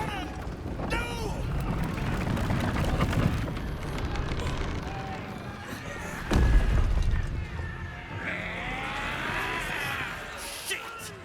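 Cannon fire in the fantasy role-playing game Baldur's Gate 3: a heavy booming blast bursts out over a dense battle din of shouting voices, clashing action and game music.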